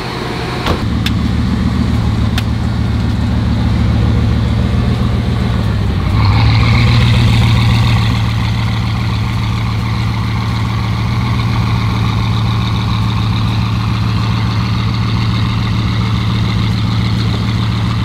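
A Bugatti with a 16-cylinder, quad-turbo engine running close by, a loud low steady drone that briefly swells as it pulls away, then settles into a smooth continuous rumble.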